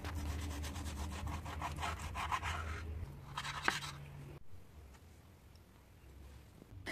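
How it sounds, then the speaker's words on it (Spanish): A knife saws rhythmically through pork belly, cutting it into strips for chicharrones, with quiet repeated rubbing strokes on a board, followed by a soft pause and a faint room hush. "Como ves, lo estoy cortando en tiras porque la idea es sacar chicharrones grandecitos"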